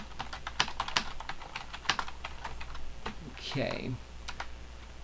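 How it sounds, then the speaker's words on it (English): Irregular clicks of typing on a computer keyboard, close and fairly quiet, scattered taps with short pauses, while a person briefly speaks partway through. "let me just type a little something here."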